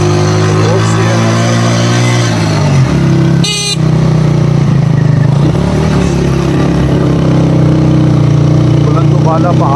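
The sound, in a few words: motorbike riding on a mountain road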